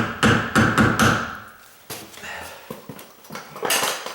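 A hammer strikes a door strike plate: a fast run of four or five sharp metallic blows, then a pause and scattered lighter taps and knocks, close up.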